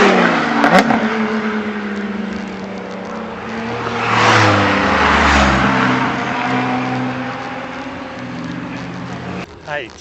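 Porsche GT RS sports cars roar past on a mountain road up Mont Ventoux, engines rising and falling in pitch as they pass, loud and fairly close, with wind noise around.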